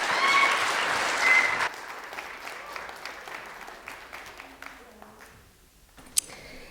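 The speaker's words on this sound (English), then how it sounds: "Please give her a round of applause" An audience at a children's speech competition final claps loudly for a speaker being introduced; the applause is full at first, then drops abruptly to scattered, fading claps with a brief sharp knock near the end.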